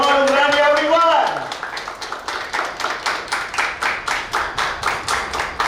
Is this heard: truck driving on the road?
no